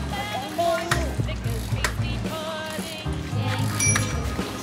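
Child's bicycle being ridden, with a few bright rings of its handlebar bell and rattling mechanical clicks, alongside background voices.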